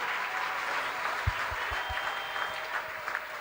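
A church congregation applauds to acclaim the Lord, a steady, dense wash of clapping from many hands that carries evenly through the moment, fairly loud, with a few low thumps underneath.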